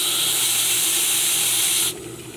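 Live steam on the steam launch Moune hisses loudly and steadily, then is shut off abruptly, leaving a much quieter background.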